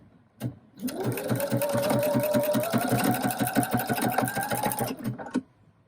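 A sewing machine with a ruffler presser foot attachment stitches in one continuous run, a rapid, even mechanical chatter that starts after a single thump and stops cleanly, loud and close.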